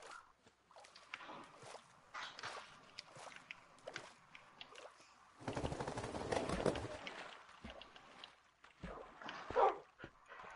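A Minecraft dog in a PS4 game gives a few faint, scattered barks and yips alongside footstep-like sounds, with a louder burst of splashing water in the middle and a brief sharper sound near the end.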